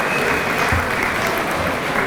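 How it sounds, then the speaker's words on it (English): Steady, dense applause from a hall audience honoring an inductee at the Cleveland International Hall of Fame 2024 ceremony, loud and continuous for the whole stretch with no break. "Can we please get a round of applause for Mr. Bruce Gregg?"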